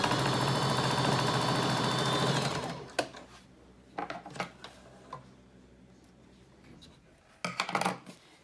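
A sewing machine stitches steadily over the edge of a fabric filter-pocket mask for a few seconds, then stops, leaving scattered clicks and fabric handling noises close by.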